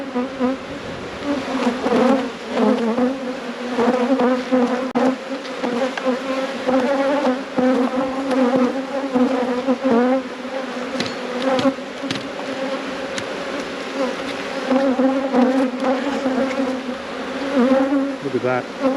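Honey bees at a busy beehive being inspected, with brood frames exposed, fill the air with a steady, dense buzzing hum that continues loud and unbroken throughout, with no voices.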